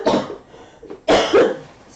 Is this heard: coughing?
yes